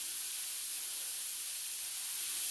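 Onion and garlic sizzle in a wok over heat, a steady close hiss running evenly throughout, with no voices.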